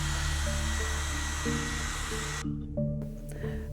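A hair dryer steers the flow of wet watercolour paint, blowing with a steady close hiss under soft background music before cutting off abruptly, leaving only the music.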